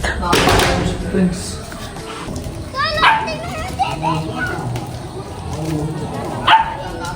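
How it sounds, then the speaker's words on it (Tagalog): Children playing on a nearby court, their shouts and chatter rising from the background, with a dog barking now and then and people talking in the foreground throughout. "Rinig na rinig dito yung ano, mga naglalaro sa court."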